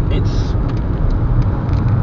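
A 2011 Mercedes-Benz C200 Sport 2.2 diesel engine drones steadily from inside the car as it drives around a roundabout, a loud low rumble with road noise throughout.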